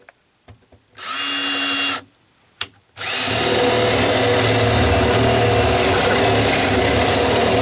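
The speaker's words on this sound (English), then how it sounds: "And I'm just going to drill a hole through this." A battery drill fitted with a 3/4 inch paddle bit bores through wood on a dry-rot deck repair: a brief whirring test run, a couple of knocks, then a loud, sustained grinding drone as the bit cuts through.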